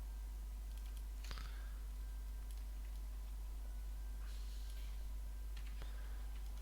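A computer mouse clicks while shift double-clicking in 3D modeling software: a few faint, sharp clicks scattered over a quiet hum, with a close pair near the start and more near the end.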